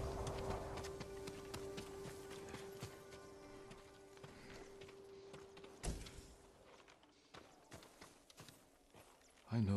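Horse hooves in Ghost of Tsushima, a farm horse at the stables, make soft, irregular clip-clops and shuffling steps, fairly faint, under a low hum, with a sharp thump midway and louder knocks near the end.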